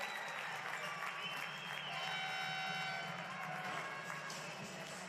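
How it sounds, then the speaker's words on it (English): Steady applause from a women's basketball crowd, Sydney Flames v Townsville Fire in the WNBL, fills the whole stretch, a dense wash of clapping with faint cheering mixed in, moderately distant. "one more time, a round of applause for Lane."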